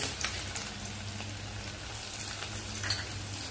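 Garlic fries with cumin seeds and green chillies in oil in a small tadka pan, giving a steady close sizzle with fine crackling pops, fairly soft and with no talking.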